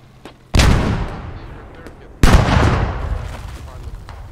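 Tank main gun firing in the Squad military game, two heavy booming blasts about two seconds apart, each with a long rumbling decay, loud and close, with faint voices between.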